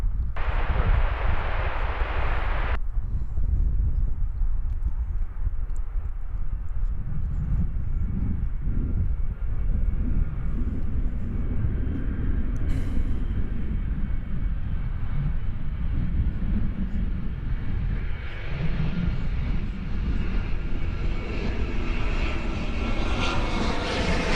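American flight 3285 from Denver, approaching DFW Airport, roars steadily for about twenty seconds, its engine rumble heavy and close with a broad whining hiss that builds again toward the end.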